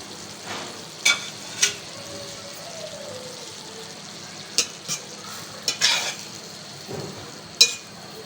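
A potato and semolina mixture cooks and is stirred in a pan, with a soft, steady sizzle and a handful of sharp scraping clicks of the spoon against the pan scattered through it, no talking.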